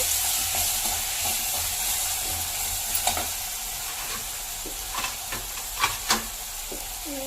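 Mushroom powder roasting in a pan for avarekalu uppittu, a steady close sizzle with a few scraping stirs and light clinks over it, no voices.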